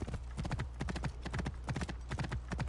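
Horse hooves clip-clop in a steady, brisk rhythm throughout in Assassin's Creed Origins, close and fairly loud, with no talk over them.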